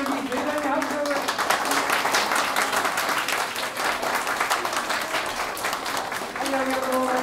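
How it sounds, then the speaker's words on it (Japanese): Audience applause fills a concert hall after a Hiroshima city fire department band performance, a dense, steady clapping that runs the full length, with a voice speaking briefly over it near the start and end. "最後に盛大に拍手を。"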